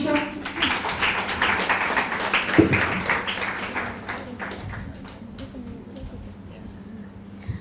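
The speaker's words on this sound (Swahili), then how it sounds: "makofi ya mwisho." Audience applause at a youth conference keynote session, broad steady clapping from a crowd that slowly thins and fades toward the end, with some voices mixed in.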